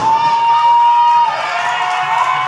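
Wrestling arena crowd at the Hot Point Davis Arena cheering and whooping loudly, a dense sustained roar with shrill whistling tones riding on top.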